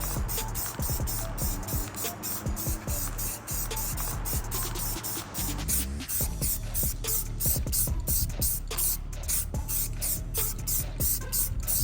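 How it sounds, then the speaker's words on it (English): Bursts of hissing spray from an aerosol can of orange spray paint, repeated in short and longer blasts onto a toy figure, with rattling and clicking handling noises between them. "I'm gonna paint him with some extra orange spray paint that I found in my shed"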